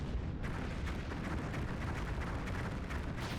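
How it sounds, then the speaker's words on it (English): Explosions in a cutscene from the video game Shadow Generations. The rumbling blasts and crackling bursts are loud and continuous, forming a dense, unbroken roar with no voices. "What's better, the explosions there"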